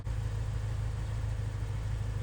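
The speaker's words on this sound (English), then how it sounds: "it is now idling, hopefully normally" A car engine idles steadily at operating temperature after warming up, giving a continuous low rumbling drone close to the listener with no talk over it.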